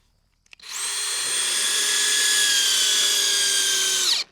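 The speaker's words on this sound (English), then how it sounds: "putting screws into the bases of these posts." A power driver whines steadily for several seconds while sinking a screw into the base of a timber frame post, a single close, loud run that starts abruptly and winds down at the end.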